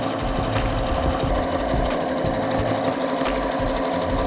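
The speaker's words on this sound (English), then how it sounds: "We're gonna make a zigzag stitch all along the outer edges so that we're getting both the collar of the sweatshirt and the old hem." Sewing machine running a zigzag stitch to join a sweatshirt collar to the old hem, a loud, steady rapid chatter that continues without pause, alone with no voices.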